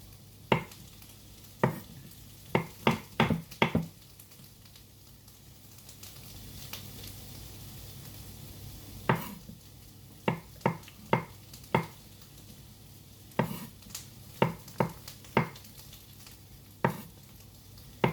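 Onions fry in a pan with a soft, steady sizzle, broken by clusters of sharp scraping and tapping as they are stirred. The clatter comes in irregular bursts close to the listener.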